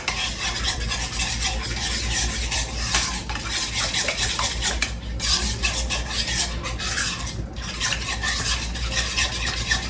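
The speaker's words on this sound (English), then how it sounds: "Let me stir this up." A utensil stirs sauce in a bowl, producing a steady close wet swishing and scraping with light clinks against the bowl across the whole stretch.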